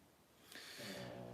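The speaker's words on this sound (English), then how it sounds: "Sorry for my dogs snoring, but 2 pugs, it's bound to happen." Two pugs snoring close by, a raspy broad rumble that begins partway in and swells into a steady, loud snore toward the end.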